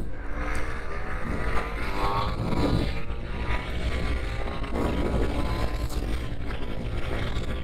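A Yamaha TDR 125 two-stroke motorcycle engine runs steadily and loud under a rider, a continuous buzzing drone with slight swells in pitch, no talking over it.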